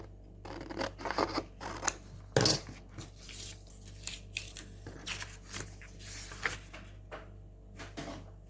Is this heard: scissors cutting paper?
yes